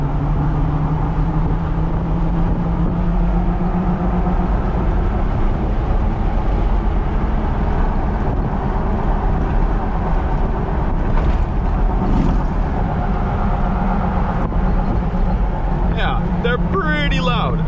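Super Swamper mud tires on a Jeep TJ rolling down the road, heard from inside the cab with both windows open: a steady loud droning hum and rumble with wind rush, someone talking over it throughout.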